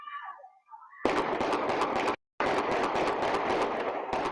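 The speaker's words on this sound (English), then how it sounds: "you will hear loud gunshots" A short meow-like cry, then a loud, continuous crackling burst of rapid gunfire captured on a doorbell camera, briefly cut out, then resuming, harsh and close.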